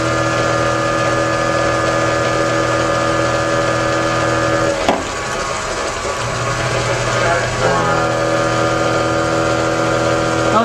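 A motor running on its own power hums steadily with a strong, tonal drone and rich harmonics, loud and close. It briefly dips and shifts in the middle before settling back into the same even running tone.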